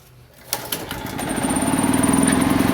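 A portable generator's engine catches after a single pull with the choke up, then settles into a steady, loud, rapid chugging idle close by.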